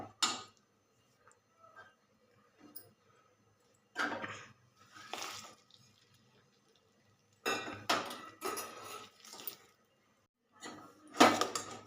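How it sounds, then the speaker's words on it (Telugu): Tempering added to rava pulihora in a pan and mixed in, heard as scattered clinks and scrapes of a spoon against metal coming in bursts between quiet pauses. "ఇప్పుడు ఈ పోపు వేసేస్తాను దీంట్లో."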